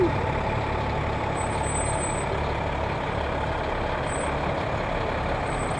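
Mooers Fire Department truck 251 rolling by in a parade, a steady loud engine rumble that holds for the whole span with a faint high whine on top.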